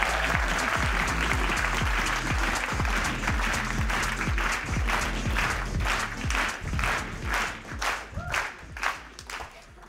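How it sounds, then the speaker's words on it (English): A large audience applauds an innovator at a conference on inclusive, planet-positive textile industries, steady loud clapping that thins out and fades toward the end, with no speech over it. "The same kind of applause."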